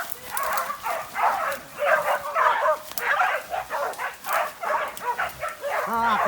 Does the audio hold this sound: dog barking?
yes